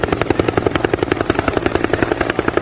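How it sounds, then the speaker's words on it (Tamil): A rapid, rhythmic helicopter-like chopping fills the space indoors, pulsing steadily and loudly without pause. No one speaks over it. "ஹெலிகாப்டர் சவுண்ட் மறுபடியும் கேக்குதுப்பா"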